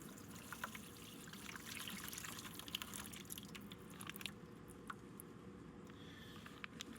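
Water pours out of a fish bucket with a steady soft trickle and light splashing that runs throughout, fairly quiet and alone, ending in a small knock.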